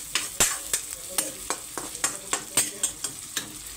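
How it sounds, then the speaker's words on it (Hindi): Onions sizzle in a hot pan for a chicken curry while a spoon scrapes and stirs them in a steady rhythm of about a dozen sharp strokes, close and clear. "अभी देखिए प्याज डालना स्टार्ट हो गया।"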